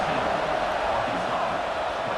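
A steady, dense stadium crowd roar builds before a kickoff in the College Football 26 video game, Mississippi State vs. Arkansas, continuous and loud throughout.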